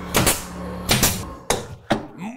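Hammer blows driving nails through the middle into the back piece of a kitchen cabinet being restored, four sharp separate strikes spaced about half a second apart, close and loud with a short ring after each.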